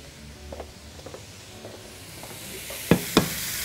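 Onions frying in a tagine, a soft steady sizzle with a few stirring scrapes and two sharper clatters near the end, close and moderately quiet, with no talking.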